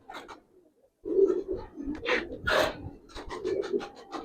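Pigeons in a loft, with soft low cooing and throaty calls rising after a quiet opening, close by and mixed with faint rustling.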